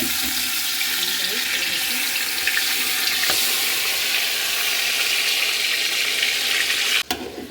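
Soaked beef hits hot mustard oil in a pot for tehari, a steady loud hiss and sizzle that holds evenly, then cuts off with a sharp clatter near the end.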